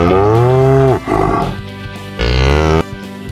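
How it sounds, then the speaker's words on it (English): A cow moos twice, loud and close: a long drawn-out call, then after a short pause a second, shorter low moo, with no talking. "Cow."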